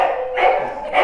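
Dogs bark in short, close, fairly loud bursts, two or three yaps in quick succession with no talk over them.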